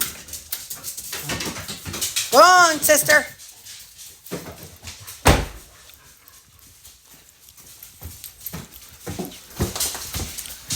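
A dog whimpers in a short rising-and-falling cry near a closed dog door at home, followed by a sharp knock, with someone talking over the scene.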